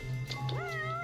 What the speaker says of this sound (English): sounds like the cat's over here